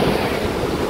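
A steady, loud wash of sea waves on the shoreline at Windang Island, Wollongong, Australia, a continuous broad roar of surf with no voices.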